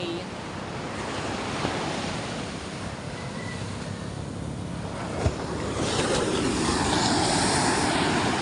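Ocean waves crashing at a shore by a hut, a continuous loud surf wash with wind noise on the microphone that swells louder toward the end.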